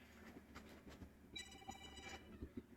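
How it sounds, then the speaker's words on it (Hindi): A mobile phone rings with a bright, repeating electronic tone for about a second, fairly quiet against room background, with a few low knocks afterward. "एक सेकंड मेरा फ़ोन बज रहा है"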